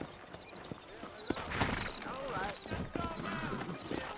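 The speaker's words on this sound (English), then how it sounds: "You ain't gonna find sturdier horses than these in all of New Austin." Several horses trot with rapid, overlapping clip-clop hoofbeats in Red Dead Redemption, set in New Austin, heard close alongside rustling movement and a busy game soundscape.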